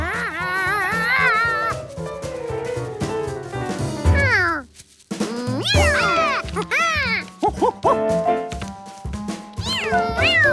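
Cartoon cat meowing over and over, rising and falling whiny mews with a few yowling wails over a bed of background music.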